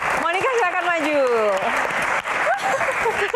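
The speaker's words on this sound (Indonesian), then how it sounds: "Tepuk tangan dulu dong." An audience at a pageant Q&A event claps for a Miss World contestant, the applause sitting underneath a prominent voice that talks over it for the whole stretch.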